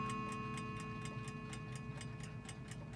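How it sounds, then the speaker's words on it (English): A 1902 Western Clock Company Imperial clock ticking steadily and evenly, about five ticks per second, close up over a faint constant hum. "You can hear it ticking."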